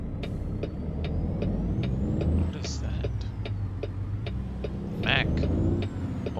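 An Ultraliner or Superliner truck drives in American Truck Simulator with a low, steady diesel rumble, a regular ticking and a brief hiss like an air brake, and someone talking over it.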